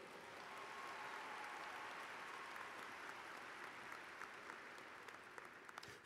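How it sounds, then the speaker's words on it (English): Applause from the audience at a 2022 high school graduation ceremony honoring the graduating class, a steady, moderate wash of clapping that holds evenly throughout before a sudden loud thump at the very end. "Let's give them a round of applause."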